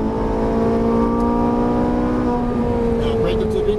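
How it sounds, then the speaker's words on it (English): A Ferrari 458 Italia on a racetrack in Las Vegas, with traction control intervening, gives a loud, steady droning engine note. The pitch holds level and then dips slightly near the end, with a voice present over the engine. "The traction control's kicking in, that's why it doesn't accelerate right away."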